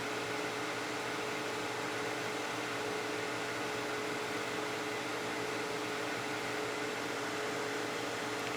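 A wood lathe spins steadily while turning ring blanks, giving off a continuous even whirring hum with a faint airy hiss, unchanging and alone at moderate volume throughout.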